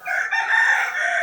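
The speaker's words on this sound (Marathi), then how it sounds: "कोंबड्याचा आवाज बघा." A large village rooster crows loudly and close by on a morning, one sustained, strained call with no voices over it.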